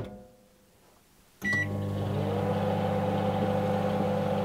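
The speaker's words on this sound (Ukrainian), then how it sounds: "Підігріваємо 30 секунд в мікрохвильовці." A microwave oven switches on after a short quiet pause and hums loudly and steadily while heating a ground dill mixture for fishing bait, with a click and brief beep at the start.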